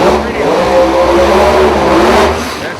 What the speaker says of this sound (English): The car was so loud